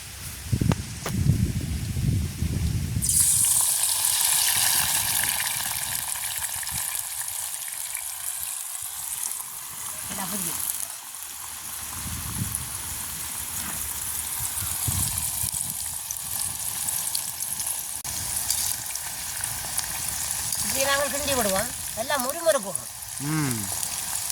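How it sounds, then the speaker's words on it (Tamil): Eggplant pieces fry in hot oil in a village kitchen, giving a steady, close sizzle that runs throughout with some rustling and handling noises. "இப்போ உங்களுக்கு கத்திரிக்காய் நல்லா பொரிஞ்சிட்டு இனி படிச்செடுப்போம்"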